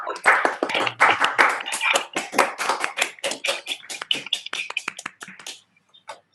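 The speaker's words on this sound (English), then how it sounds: "I will allow people to applause while we're waiting for questions." Audience applause after an astrophysics lecture on primordial star formation, a sparse-to-dense run of individual hand claps in a room, moderately quiet and tapering off toward the end.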